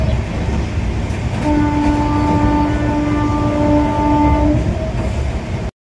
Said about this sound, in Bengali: বালুরঘাট শিয়ালদা এক্সপ্রেস এখন তার টপ স্পিড ধরে নিয়েছে 110 কিলোমিটার প্রতি ঘন্টা